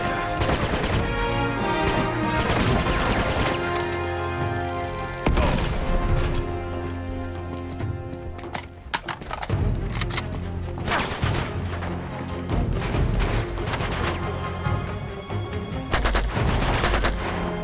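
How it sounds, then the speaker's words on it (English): Gunfire from Uncharted 2: Among Thieves, a weapon firing three-round bursts again and again, loud and near, dense with impacts and crashes and no talking over it. "This game, this gun has a three-round burst."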